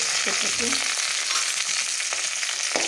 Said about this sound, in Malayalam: അപ്പോൾ സാമ്പാറിന് കടുക് വറുക്കുകയാണ് കേട്ടോ